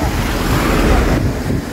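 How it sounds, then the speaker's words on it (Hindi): A waterfall in Ladakh, with water dropping from above, makes a loud, steady rushing roar heard close up and mixed with wind noise. "यही वो वाटरफॉल है जो हम लोगों ने नीचे से देखा था।"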